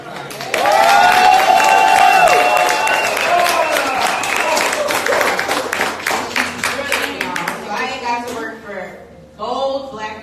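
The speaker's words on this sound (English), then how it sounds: "So can we please give Congresswoman Moore a round of applause?" Audience applause with cheers and whoops for Congresswoman Moore at a political event, loud sustained clapping that fades toward the end as voices rise.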